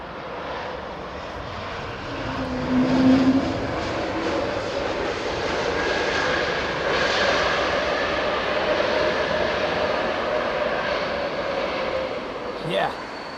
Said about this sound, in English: it seems the planes are roaring in today